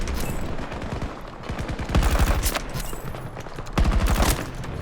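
Gunfire in Battlefield 2042 comes as rapid bursts of shots in quick rhythmic clusters, loud and close, with a shotgun among the weapons, over a constant noisy battlefield backdrop.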